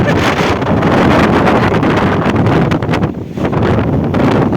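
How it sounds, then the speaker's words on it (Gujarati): Very strong storm wind in the village of Vejalka, Ranpur, Botad district, roaring loud and continuous against the microphone with heavy buffeting and a brief dip in force near the end. "કેટલો અતિ ભારે પવન"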